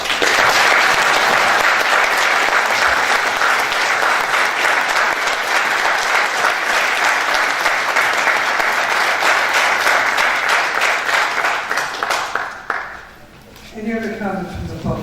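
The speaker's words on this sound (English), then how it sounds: "giving Garrett Loesch a round of applause for a job well done" Sustained audience applause at a public hearing, loud and dense for about twelve seconds before tapering off, with a few voices and sounds emerging as it fades.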